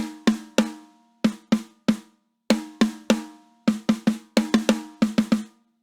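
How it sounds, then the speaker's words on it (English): A close snare drum plays a series of sharp rim shots in loose rhythmic groups, each strike cracking hard with a quick ringing tail. "Now, a rim shot would sound like this."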